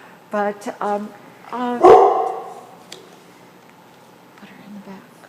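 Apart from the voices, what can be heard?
dog barking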